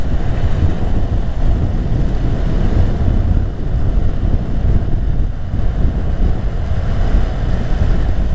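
Heavy wind roars steadily against the microphone while riding a motorbike. The loud, dense rush is continuous and has no clear pauses.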